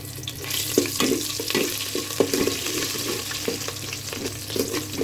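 Onions sizzle and crackle steadily in hot mustard oil, with a few soft clinks of stirring and no voices.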